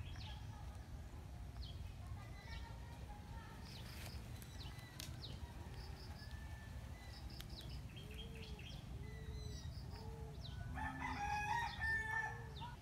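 Free-range chickens cluck in a bamboo-built coop, with a rooster crowing and hens calling in repeated short, faint bursts over a low rumbling background, rising toward the end.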